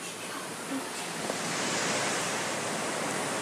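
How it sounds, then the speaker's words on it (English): Ocean waves at a beach, a steady broadband surf wash that holds evenly throughout with a slight swell partway, no distinct breaking crashes standing out. "I'm at the beach."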